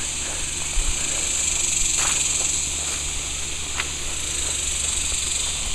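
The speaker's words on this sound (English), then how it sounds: "some cicadas are so noisy" Cicadas on a farm give a steady, loud high-pitched drone that runs unbroken through the whole stretch, with faint clicks and rustles scattered beneath it.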